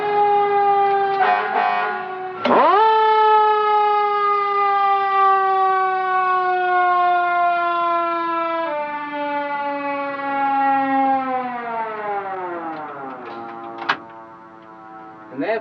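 A fire truck siren wails loudly with a long, slowly falling tone, cut by a few sharp clicks, close and dominant.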